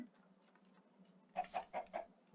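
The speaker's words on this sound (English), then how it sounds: "I think I hear an egg plop." A Minecraft chicken laying an egg clucks in four quick, close bursts over a quiet low hum, with softer faint sounds before them.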